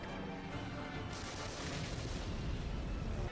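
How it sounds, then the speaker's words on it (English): Anti-aircraft cannons blast at a plane in the 1927 war film Wings, a dense rumbling barrage of booms and crackling shots, continuous and heavy with low, muffled intensity throughout. "He takes them out, but anti-air cannons are shooting at him."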